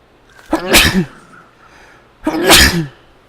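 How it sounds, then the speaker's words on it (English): Two loud, close sneezes about two seconds apart, each a sharp burst with a gusty release, and quiet between them. "That sneeze came all the way from my chest."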